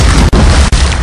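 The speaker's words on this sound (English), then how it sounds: "now let's goo bomb the pool" A cartoon goo bomb exploding at a swimming pool, a loud, booming blast that roars on with two brief dropouts.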